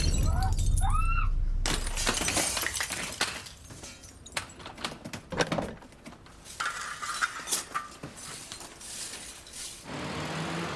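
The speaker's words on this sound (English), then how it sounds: "moves to breach the last line of safety for the bank staff, a reinforced glass security door" Reinforced glass security door at a bank being breached and shattered, loud crashing and breaking glass in repeated bursts with scattered clinks and debris, interrupted by sharp impacts over a noisy background.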